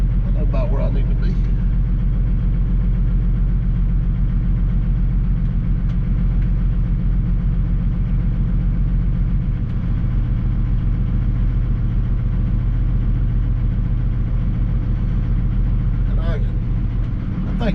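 A Peterbilt truck's engine idles with a steady low rumble as the truck backs up on a rock haul, loud and continuous throughout with no pauses.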